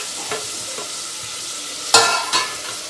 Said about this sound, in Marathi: तापले तेल हे सगळं असं हलून घेऊया सगळं एकदा आणि आपली तीन मिरच्या काढल्या ते पण टाकूया